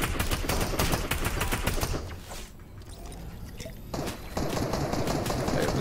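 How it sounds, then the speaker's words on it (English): Gunfire in a Fortnite arena trios match: dense, rapid shots crackle close and loud, break for a moment, then resume in sustained bursts. "Oh, I'm getting sniped at."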